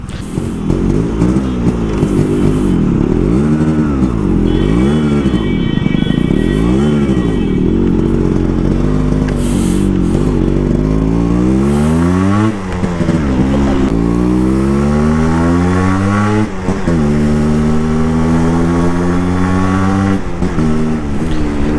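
A Yamaha RXZ motorcycle on a ride from Thiruvananthapuram to Malabar, its engine loud and close throughout, revving up and down through repeated gear changes with no talking.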